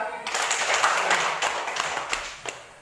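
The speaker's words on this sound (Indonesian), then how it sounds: "Tepuk tangan untuk dia." A short burst of hand clapping from a group of children, quick and uneven, fading out into a few scattered claps.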